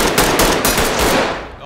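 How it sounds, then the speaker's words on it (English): Rapid automatic gunfire from the tactical shooter game Ready or Not rattles loudly and continuously in a dense close burst, with no pauses and no talking. "I shot the guy right through the two civilians"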